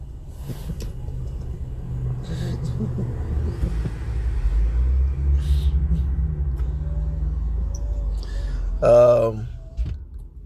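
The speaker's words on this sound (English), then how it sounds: "right now I'm driving" Car driving on the road, a low steady engine and tyre rumble filling the cabin throughout, with a person talking over it and a brief louder vocal burst near the end.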